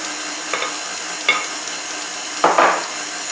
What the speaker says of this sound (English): at medium speed, I'm going to beat in 2 large eggs, one at a time